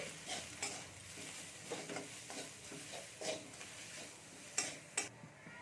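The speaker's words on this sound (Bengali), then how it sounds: "মশলাটা আমি একটু ভেজে নিচ্ছি" Turmeric, chilli and cumin powder masala fries quietly in a pan, a soft low sizzle with a string of scraping stir strokes and a couple of sharp spoon taps near the end.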